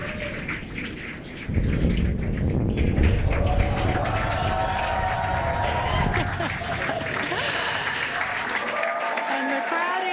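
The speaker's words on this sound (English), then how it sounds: "And the crowd here is excited to see Falcon 9 touch down on landing." Spectators at a Falcon 9 booster landing on Landing Zone 1 cheer and applaud, a dense, loud, sustained roar of crowd noise that bursts in after a brief quieter start and carries on steadily.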